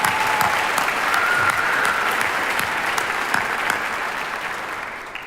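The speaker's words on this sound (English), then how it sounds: "We can clap for that." Sustained applause from a high school commencement audience, a dense crowd of hands clapping steadily and loudly for several seconds before slowly tapering off.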